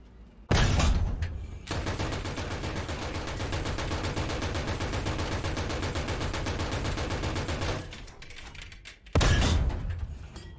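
A War Thunder tank's gun goes off as two sharp, loud cannon blasts, one at the start and one near the end. Between them comes a long, steady run of rapid machine-gun fire.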